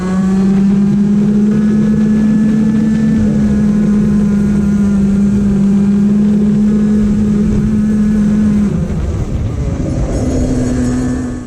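A go-kart engine holds full throttle through the corners of a racing track, giving a loud, steady, buzzing drone with a nearly constant pitch that shifts slightly near the end.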